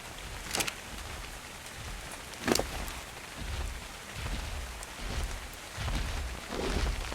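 Steady rain falling across a desert in ARK: Scorched Earth, a broad continuous hiss with a few brighter splashes and low rumbles, heard alone with no voices.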